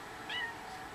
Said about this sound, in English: And this little kitten.